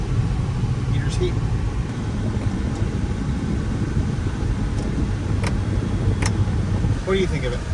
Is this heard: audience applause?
no